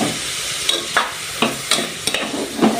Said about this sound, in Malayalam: എല്ലാം കൂടി നമുക്ക് നല്ലതുപോലെ ഒന്ന് വഴറ്റിയെടുക്കാം